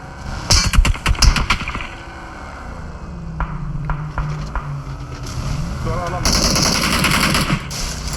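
Gunfire in the PUBG Mobile game: a quick cluster of loud, rapid automatic shots near the start, then scattered fainter distant shots over engine and wind-like hum while players talk.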